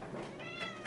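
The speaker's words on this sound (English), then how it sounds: "now that's the cat" Single short meow from a domestic cat indoors, close and soft, a brief tonal cry under a second long with no talk over it.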